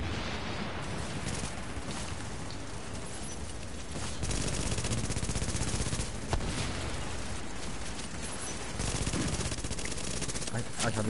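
Sustained gunfire in Tom Clancy's The Division, dense automatic bursts hammering almost without pause, loud and close, with voices occasionally talking underneath.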